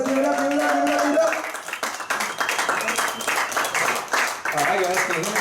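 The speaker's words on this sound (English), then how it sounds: "Stand up, give a big round of applause to my brother, my Millionaire Immersion partner, Mr." Audience applause and clapping for a guest speaker at a business seminar, a dense burst of many hands that builds then thins, with cheering and voices mixed in throughout.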